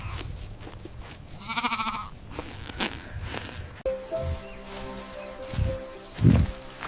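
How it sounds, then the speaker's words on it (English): A large white farm kid goat bleats in short wavering cries amid rustling and footstep-like shuffles, with a few quieter bleats later, moderately distant and without talking. "This is a large white farm kid goat."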